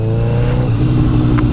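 A European motorcycle with a Tessa Strata engine runs at steady, low rumbling revs with a throbbing vibration, close and loud, with a brief faint click near the end.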